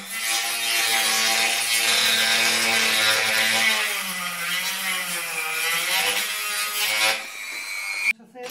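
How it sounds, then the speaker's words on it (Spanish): A grinding stone smooths burrs on the edges of a homemade aquarium lid, giving a loud continuous rasping, whirring grind that shifts pitch slightly as it works, then cuts off abruptly. "aquí tenemos una piedra de desbaste para limpiar un poco estas rebabillas que no están dejando"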